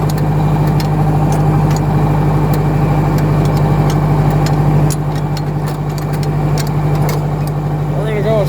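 A 2010 John Deere engine runs steadily in gear with a deep, constant low drone and rattle, close and loud, with a voice talking over it.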